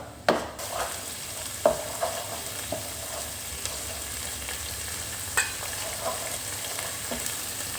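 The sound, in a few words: stirring curry paste and shrimp paste in coconut milk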